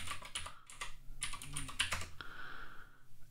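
Fast clicking keystrokes on a computer keyboard, heard up close and fairly quiet as a password is typed in a run of quick taps, then a brief pause and a softer tone, with no talk.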